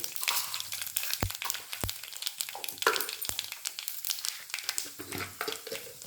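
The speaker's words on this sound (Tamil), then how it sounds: "எண்ணெய் காஞ்சிடுச்சு. கடுகு, பெருங்காயம், உளுத்தம்பருப்பு" Mustard seeds, asafoetida and urad dal crackle in hot oil for a tomato chutney tempering, a close, steady sputtering hiss broken by several sharp, loud pops.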